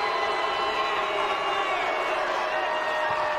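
Crowd at a state semifinal basketball game reacting to a play, a loud sustained roar of many voices with shouts mixed in, dense and continuous.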